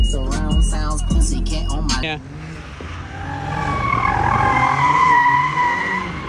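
A car drifts sideways with its tires skidding, giving a rising, wavering squeal over engine noise that follows a burst of loud music or talk at the start and stays strong to the end.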